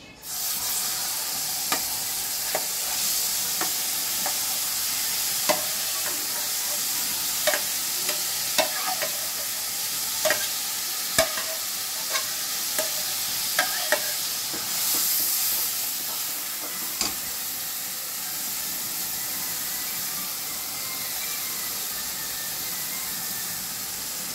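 Cooked palm fruit pulp stirred in a hot pan, a long steady sizzle with regular sharp scrapes and taps of the utensil recurring every second or two, near and clear.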